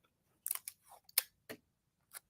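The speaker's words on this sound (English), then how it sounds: "And I'm going to tape it down." Clear transparent tape is pulled and pressed down over a zipper positioned for machine embroidery, a few quiet, crisp crackles and tearing snips scattered among near-silence.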